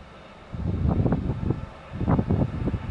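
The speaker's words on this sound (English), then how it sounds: "It is kind of windy" Wind gusts buffet the microphone outdoors, producing low rumbling bursts that rise and fall over a few seconds, close and fairly loud.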